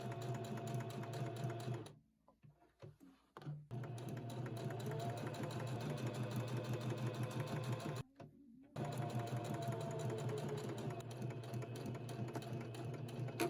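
A sewing machine stitches around the edges of a pleated cargo pocket with a steady, close mechanical whir, stopping twice briefly before running on.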